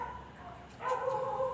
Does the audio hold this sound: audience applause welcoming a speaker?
no